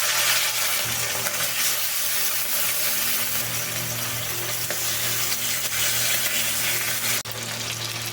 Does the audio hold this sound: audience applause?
no